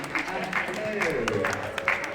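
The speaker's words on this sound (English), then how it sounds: "Round of applause, ladies and gentlemen." Brief applause from the crowd at the Fort McDowell Winter Round Dance, scattered clapping mixed with voices and speech over the top.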